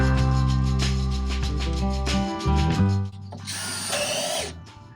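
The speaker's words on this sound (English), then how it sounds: "Time to drill the pilot holes." A power drill bores pilot holes in wood to fix a garden post for a garden bar extension, its motor whining steadily before winding down, followed by a short burst of rubbing and scraping, close and without talk.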